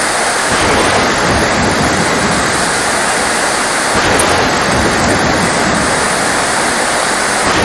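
Heavy rain pours over an island in a dense, steady roar that stays loud and close throughout, with no voices and no distinct thunderclap standing out.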